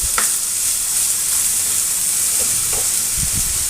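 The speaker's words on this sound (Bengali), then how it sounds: "প্রথমে আলুটাকে ভেজে নেব।" Potato pieces frying in a pan of hot oil, giving a loud, continuous close sizzle with a few soft stirring knocks near the end.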